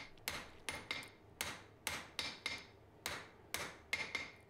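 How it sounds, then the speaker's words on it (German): Hand hammer forging the back end of a steel hook with a sharp corner down to 10 mm: about eleven sharp, ringing blows in an uneven rhythm, close and clear with no talk. "Dann kann ich das Ganze auch hinten ausschmieden auf 10 mm."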